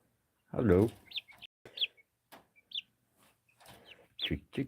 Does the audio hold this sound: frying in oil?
no